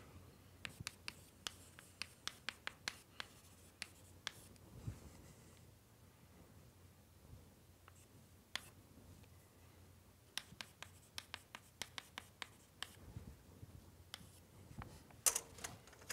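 Chalk or marker writing on a board during a university lecture on numerical methods, heard as clusters of quick tapping and scratching strokes in a quiet room, with pauses between bursts.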